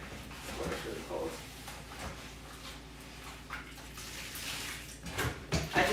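Cold tap water runs steadily into a kitchen sink while dishes are washed after dark, with clinks and knocks of handled items over the broadband rush.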